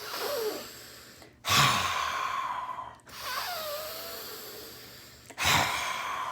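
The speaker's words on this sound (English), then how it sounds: "You can do the tiger's breath breathing from yoga," Deep yoga-style tiger's breath: three strong breathing cycles, each a forceful exhale through the nose with a sighing, gasping quality, close and fairly loud with short silent gaps between, no talking.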